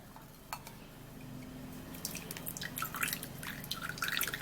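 Grated coconut pulp is sieved and squeezed by hand, with liquid dripping and trickling in soft irregular patters, joined by faint clinks of a bowl or utensil that grow busier toward the end.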